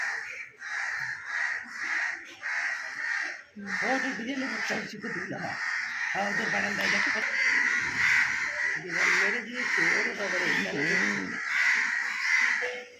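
Crows attacking a cat outdoors give harsh, repeated caws close by, overlapping in a near-continuous chorus while a person talks throughout.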